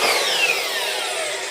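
A power saw cuts through a knotty pine board at a 45 degree angle, giving a loud, steady high-pitched whine with a rasping bite that drifts slightly lower as the blade moves through the wood, with no voices.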